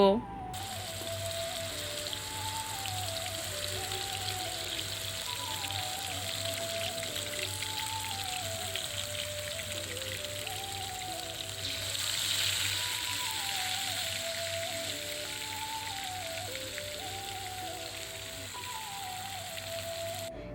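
Ginger, garlic and cumin paste fries in a pan for chicken kofta curry, giving a steady, even sizzling hiss that runs throughout under a plucked background melody.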